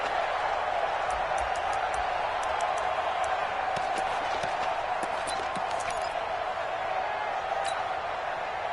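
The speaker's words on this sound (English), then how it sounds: "the crowd getting into it as we come up on a big 3rd down" Stadium crowd noise from a PS4 American football video game, a steady broad roar of cheering ahead of a big third down, with faint sharp taps scattered through it.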